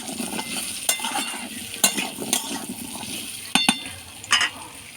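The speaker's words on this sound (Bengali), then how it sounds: "এবার গাজর আর আলু দিয়ে দেবো, দিয়ে এটাকেও ছকে নেব" Carrots and potatoes fry in a little oil in a home kitchen, giving a steady sizzle under repeated sharp scrapes and clinks of a utensil stirring against the pan.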